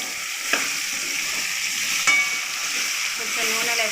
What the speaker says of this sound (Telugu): తర్వాత బోడకాకరకాయ ముక్కలు ఈ తాలింపులో వేసుకోవాలి